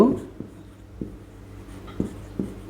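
Handwriting with a pen on paper gives soft, scattered scratches and taps with quiet pauses between strokes, faint and close, along with low background hum.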